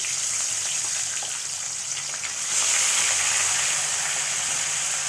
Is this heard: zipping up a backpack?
no